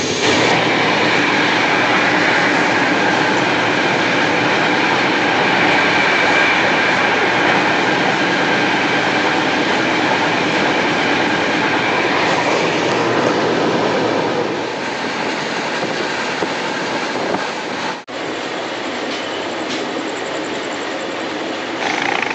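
The 13145 Kolkata–Radhikapur Express of Indian Railways runs between Kolkata and NJP via Malda, producing a loud, steady rumble and rattle of wheels and carriages. The sound is constant and close, with a brief jolt near the end and no speech.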